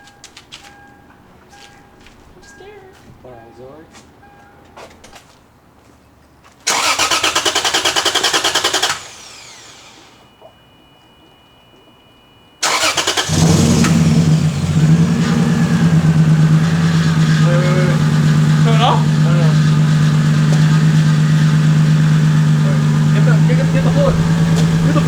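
A Lexus IS300 being started for the first time cranks in a short loud burst, falls quiet, then catches and settles into a loud, steady idle recorded close by.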